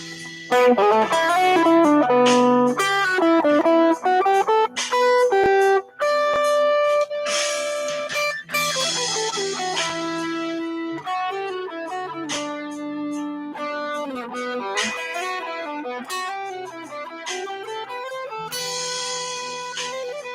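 Electric guitar played through a distortion effect, a run of sustained, gritty notes and chords filling the clip at a steady, fairly loud level without any talking.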